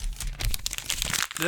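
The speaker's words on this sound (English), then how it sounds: "That's the sound of me crumpling up our show notes." Paper show notes being crumpled by hand, a close, crackling burst of crinkles lasting about a second and a half.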